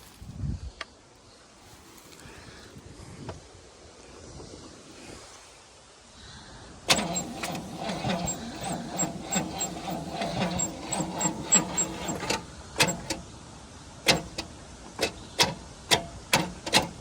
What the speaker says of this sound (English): Cranking but very slow. I think this battery has sung its last song.